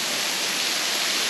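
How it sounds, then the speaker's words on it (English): A waterfall beside a circuit walking track in Victoria's High Country, a close, steady rushing roar of falling water that stays constant throughout. "This is just like a random waterfall that we saw on the circuit track, and Cain's like, want to go see?"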